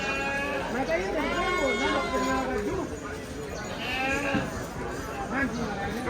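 Goats bleating repeatedly at a goat market, several wavering calls overlapping one another at close range, with a steady background hum.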